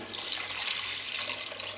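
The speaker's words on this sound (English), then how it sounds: "So yeah, I'm going to put the water in." Water pouring steadily into a pot of chicken and potato curry, a bright continuous splashing stream with no talk over it.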